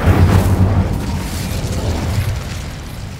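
An Incendio fire spell erupts in Hogwarts Legacy with a loud booming burst, then a roaring, crackling fire rumble that trails off over a few seconds.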